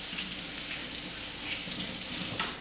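Tap water runs steadily from a kitchen faucet over mushrooms being rinsed, giving a continuous close splashing hiss with no talk.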